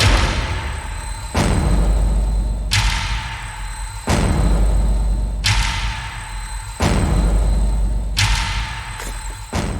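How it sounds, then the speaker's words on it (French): A loud explosion in a shopping centre, with heavy booming thuds as the windows break, several big impacts spaced a few seconds apart over a dense, sustained rumble. "Mais peu après, une forte explosion retentit dans le centre commercial et casse les vitres."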